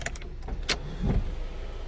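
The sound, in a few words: car sunroof motor opening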